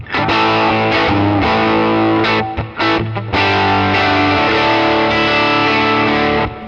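An electric guitar through a Kemper profile of a 65 Deluxe amp, with the mid-range removed, plays loud, dense, driven chords that ring together, with a couple of brief gaps and chord changes, and no voices.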